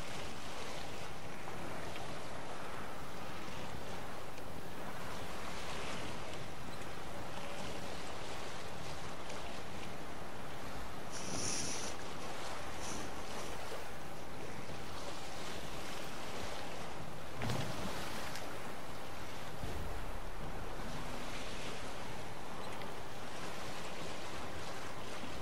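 A boat sails across open water in The Witcher 3, with a steady, continuous wash of waves and wind rushing past at an even, moderate level throughout, no voices over it.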